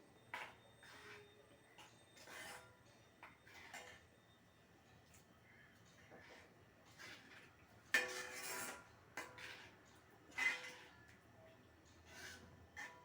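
Faint scraping and clinking of a utensil against a pot of eggplant in yogurt gravy on low heat, irregular stirring sounds at low level with a few louder knocks.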